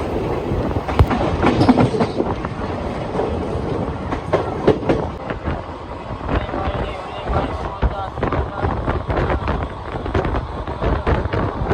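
Rumbling Vijayawada–Chennai Pinakini Superfast Express running along the tracks, heard on board, with rhythmic clickety-clack of wheels and wind buffeting, continuous and fairly loud throughout.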